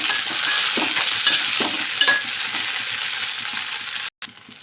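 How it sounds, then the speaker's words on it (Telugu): Green chillies frying in hot oil, a loud, close, continuous sizzle with light stirring clicks and scrapes, no talking, cutting out briefly near the end. "ఆయిల్ వేడైన తర్వాత ఆయిల్లో పచ్చిమిరపకాయలు వేసేస్తున్నాను."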